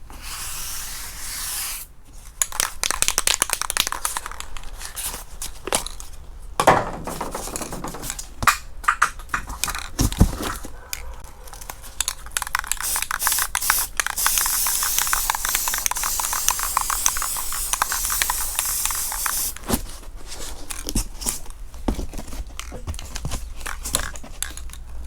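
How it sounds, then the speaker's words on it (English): Flat black spray paint misted lightly as a guide coat over bodywork on a box Chevy Caprice, a soft steady aerosol hiss in repeated passes, with sharper rubbing and handling noises between bursts. "And what I'm gonna be using this flat black spray paint."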